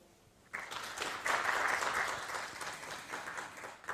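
An audience at a Korean education briefing breaks into applause that starts abruptly and holds as a steady, moderately loud patter of many hands clapping indoors.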